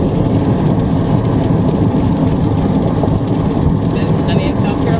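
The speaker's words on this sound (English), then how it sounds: "It's raining, I know." Rain falls on a car driving along a road in South Carolina, a steady, dense hiss mixed with road rumble that continues throughout as voices talk over it.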